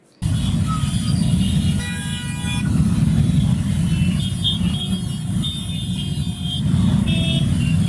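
Busy intersection jammed with traffic where signals are down, including a stuck ambulance: a steady dense rumble of cars, trucks and motorcycles with repeated car horn toots, close and loud throughout.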